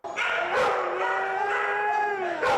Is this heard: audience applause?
no